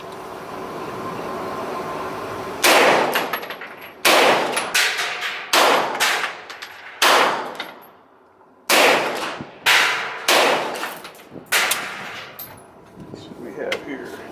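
A Stribog SP9A1 9mm carbine firing hollow point rounds outdoors: about eight loud, close shots in an uneven string, each with a sharp crack and a ringing tail, after a quieter lead-in with background murmur.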